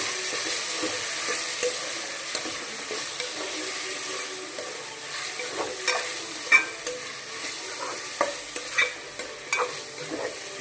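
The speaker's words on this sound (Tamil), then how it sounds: "அடுத்து நம்ம சிக்கன் ஆட் பண்ணிக்கலாம். ஆட் பண்ணிட்டு நல்லா மிக்ஸ் பண்ணி விட்டுக்கலாம்." Chicken pieces go into a pan of masala for biryani and are stirred, with steady frying sizzle and scraping clatter from the spoon, clicks and knocks growing busier toward the end.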